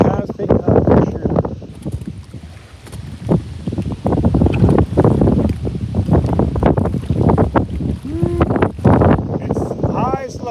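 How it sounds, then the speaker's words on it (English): Strong wind buffets the microphone outdoors during fly fishing for bluegill and bass, a loud continuous rumble with gusts rising and falling, while someone talks over it throughout. "that wind sure has picked up for sure"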